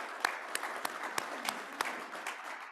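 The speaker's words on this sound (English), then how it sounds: "That needs a round of applause." A club meeting audience applauds to mark the club's 104th birthday: soft, sustained clapping with a few sharper nearby claps standing out, fairly distant and without talk over it.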